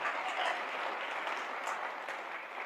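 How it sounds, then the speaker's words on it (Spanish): A church congregation applauds during a Spanish-language sermon, a dense, even roar of clapping from a large crowd that stays steady throughout. "Denle ese fuerte aplauso al Señor"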